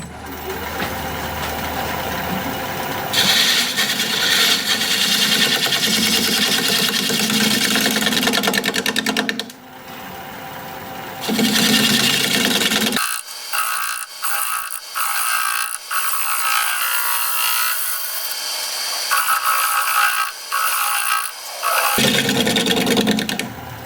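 A steady, loud scraping drone of a 5/8 tool shear scraping spinning Kamani wood on a lathe, running in long stretches with brief pauses and a low motor hum beneath.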